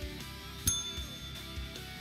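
A doorbell in the Minecraft video game gives one short, bright ring over a soft looping background, with no talking.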